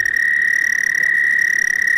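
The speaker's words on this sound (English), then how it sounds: "the Eastern American toad." An Eastern American toad gives a long, steady, high-pitched musical trill that carries on unbroken, close and loud, with a faint rapid pulsing and no voices.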